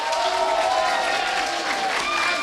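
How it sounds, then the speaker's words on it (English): An audience at the WCS Europe Season 3 final, MMA vs MC, cheers and applauds for the underdog MC, a dense, lively roar with clapping that stays loud the whole time. "give one big cheer for the underdog"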